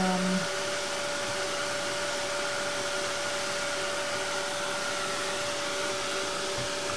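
A hair dryer blows steadily to dry plaster paste on metal wings, a constant even whine with a faint tonal hum throughout.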